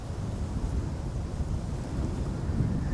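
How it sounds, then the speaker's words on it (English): Strong wind at Amsterdam Schiphol airport, a continuous low buffeting roar of gusts battering the microphone, steady and loud throughout with no voices. "The wind is getting worse."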